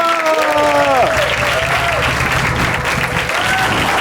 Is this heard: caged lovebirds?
no